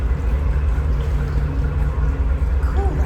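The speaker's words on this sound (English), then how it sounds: "That is the sound of a Gardner engine in a tunnel." A Gardner diesel engine on a narrowboat running slowly inside a canal tunnel, giving a loud, steady low rumble that echoes continuously throughout, with no talking.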